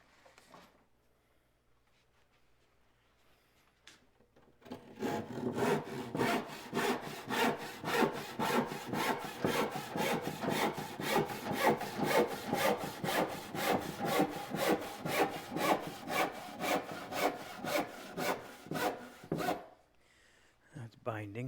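A hand saw cuts through wood in a workshop, a long run of steady rhythmic rasping strokes, close and fairly loud, roughly two strokes a second for about fifteen seconds, with quiet room sound before and after.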